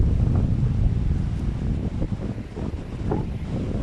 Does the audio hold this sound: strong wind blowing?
yes